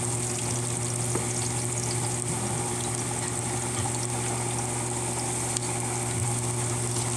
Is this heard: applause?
no